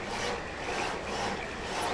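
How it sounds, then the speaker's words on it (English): A handsaw cutting through wood in the village-building game Banished, a steady rasping stroke sound running continuously for two seconds at an even, moderate level with no voices. "that guy is sawing wood with a handsaw"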